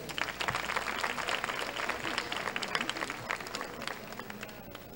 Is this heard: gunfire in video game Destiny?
no